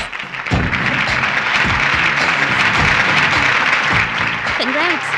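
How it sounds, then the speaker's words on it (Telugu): Applause rings out at a prize-giving ceremony in a film scene, a broad wash of many hands clapping continuously and fairly loud, with a voice briefly speaking near the end. "క్లాప్!"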